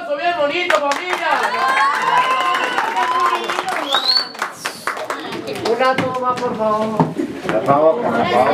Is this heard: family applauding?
yes